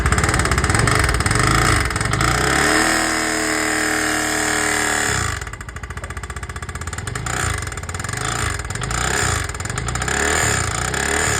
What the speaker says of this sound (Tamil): ஹெட்டில் போய் டாப்பில் போய் பிஸ்டன் மோதுறது தான் இதில் சவுண்டு